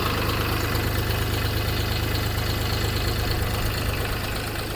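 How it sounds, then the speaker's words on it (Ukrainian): A DTZ 5354 tractor's 35-horsepower CF3B35T three-cylinder diesel idles steadily up close, a loud, even low rumble with a fast knocking pulse throughout and no talk. "Ви вже чуєте, як працює двигун cf 3 b 35 t на 35 кінських сил."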